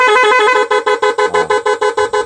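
Close and loud, an 18-tone magic car horn sounds another tone as a rapid string of pulsing, stuttering musical honks that repeat evenly with no talk.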